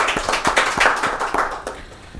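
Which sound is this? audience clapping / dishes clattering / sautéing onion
audience clapping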